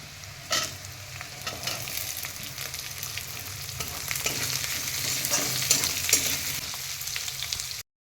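Chopped onion and capsicum frying in a pan for home-style chilli fish, a steady hot sizzle with scraping stirs and a few sharper clatters of the spatula against the pan, no talking.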